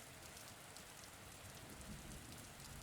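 Rain patters steadily against a bedroom window, an even, unbroken hiss of drops that holds constant throughout with no voices.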